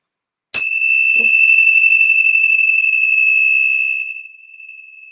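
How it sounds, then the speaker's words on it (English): Tibetan bells struck once in a quiet room, a bright metallic ding that rings out alone with a long, steady sustained tone slowly fading after several seconds, with a faint soft knock just after the strike. "We're going to clear it just quickly with the Tibetan bells."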